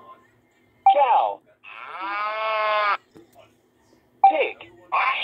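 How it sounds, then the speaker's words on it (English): A cow moos once in a long, clear low call, with short bursts of other sounds before and after it. "Cow."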